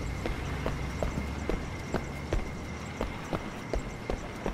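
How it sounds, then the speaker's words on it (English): Horse hooves clip-clopping at a steady walking rhythm in the video game Sleeping Dogs, a series of crisp, moderately close hoof strikes over a low ambient background. "Stupid fucking horse."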